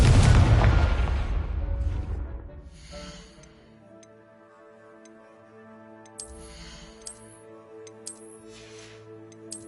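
A Confringo blasting spell in the video game Hogwarts Legacy sets off a loud, booming explosion that rolls away over about two seconds, followed by quieter sparkling ticks and tonal game effects.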